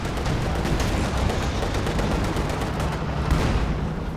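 Company of Heroes 2 artillery barrage rumbles as a dense, continuous roar of overlapping blasts and gunfire, loud and sustained throughout without pause.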